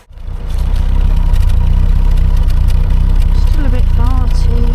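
A Triumph Herald Estate engine idles roughly and unevenly just after a carburettor swap, a loud, steady low rumble with some lumpiness, and a voice speaks briefly over it near the end.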